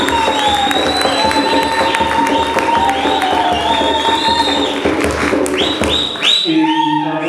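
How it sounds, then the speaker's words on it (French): A crowd at a political gathering for the new federal president of a party in South Africa applauds and cheers loudly and steadily, with whistles and shouting voices rising toward the end. "le Dr Moulema, si vous pouvez l'applaudir."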